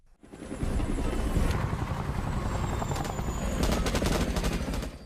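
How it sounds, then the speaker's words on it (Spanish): Military helicopters in a Vietnam War film scene, a loud, continuous rotor roar that fills the whole stretch, with sharp crackling bursts that sound like gunfire layered over it. "En la escena, se supone que los helicópteros sirven como un elemento sorpresa."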